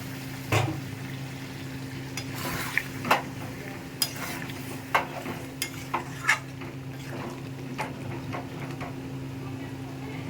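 Chicken frying in oil in a pan gets a splash of water and is stirred. A low, steady sizzle runs underneath while a utensil scrapes and knocks against the pan several times, close by.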